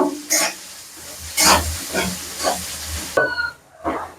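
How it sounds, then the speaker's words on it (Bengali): Chopped onions fry in hot oil with a close sizzle, while a spatula stirs and scrapes the pan in repeated bursts of hiss and clatter. "এবার আমি মাছের ঝালের জন্য পেঁয়াজ কুচি দিয়ে দিচ্ছি তেলের উপরে ভালো করে ভেজে নেব"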